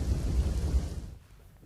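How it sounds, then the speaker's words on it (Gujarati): Heavy monsoon rain pours down in Dwarka, a dense low roar of downpour with rumbling thunder that fades out near the end. "યાત્રાધામ દ્વારકામાં વરસાદ છે"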